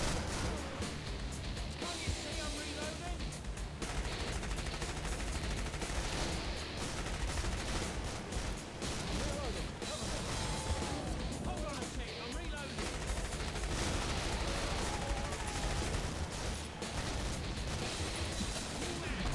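Shotgun fire in the video game Killing Floor, repeated loud blasts within a dense, continuous wash of gunfire and combat noise, with a voice talking over it.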